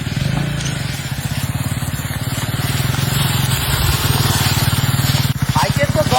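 A 2025 KTM 250 Adventure motorcycle off-roading, its engine throbbing in a fast, even pulse close by, with a voice talking over it.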